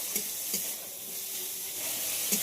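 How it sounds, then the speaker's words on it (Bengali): Capsicum frying with onion in a pan, a close, steady hissing sizzle with a few soft stirring knocks spaced through it and no voices. "ক্যাপসিকামটা পেঁয়াজের সঙ্গে খুব ভালো করে ভেজে নেব।"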